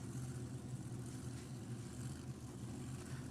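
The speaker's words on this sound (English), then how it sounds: "So the blown cars fire up with that blown car sound," A supercharged nitro funny car at Sacramento Raceway firing up, a low, churning engine rumble with a washing-machine-like roll, steady and moderately distant with no talk over it.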